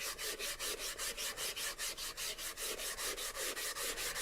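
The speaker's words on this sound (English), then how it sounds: "I'm going to lightly sand my lettering" An ultra fine sander lightly sands over painted lettering on a sign, making a steady, rhythmic rasping with about twenty quick even strokes, close and clear with no talk.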